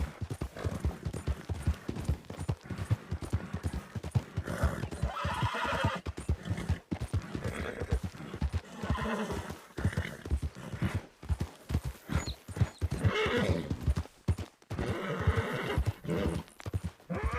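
Mustang horse in a video game, hooves clip-clopping at a gallop in a steady loud rhythm with repeated neighs and whinnies, close and continuous throughout.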